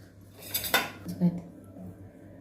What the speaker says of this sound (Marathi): आता आपण बाऊलमध्ये काढून घेऊया